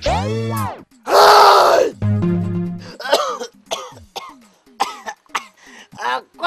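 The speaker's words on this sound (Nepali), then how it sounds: "कस्तो खोकी लाग्यो" A person in a comedy sketch coughs and clears their throat several times in short, loud, ragged bursts near the microphone. Groaning and strained vocal sounds come before the coughs.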